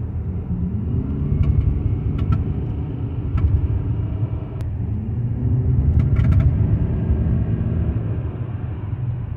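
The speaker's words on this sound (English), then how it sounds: "the symptom of a bad carrier bearing is when you step on the gas, you get a severe drive shaft vibration" Cadillac on the road with severe drive shaft vibration from a bad carrier bearing, a continuous low droning rumble that swells under acceleration, with faint clicks inside the car.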